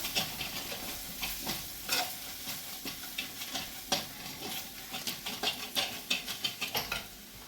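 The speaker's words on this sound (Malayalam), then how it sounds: "ഇനി ഒന്ന് ഇളക്കി കൊടുക്കാം." Spiced masala with salt and fennel powder for a boti curry is stirred in a pan, producing quiet rhythmic scraping strokes over a low sizzle, with no speech.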